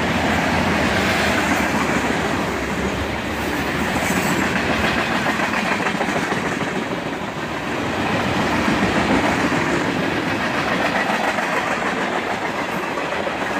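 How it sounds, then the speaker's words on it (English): A CSX northbound manifest freight train rolls past nearby, its steady rumble and rhythmic clickety-clack of wheels on rail joints carrying loud and continuous from start to finish, with no voices. "This northbound manifest train was shorter than most that come through here."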